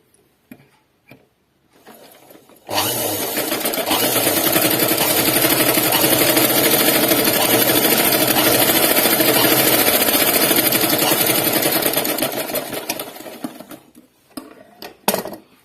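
A sewing machine runs in one long continuous burst of rapid, even stitching on a collar neck dress, loud and close, preceded and followed by a few clicks and handling noises; no talking.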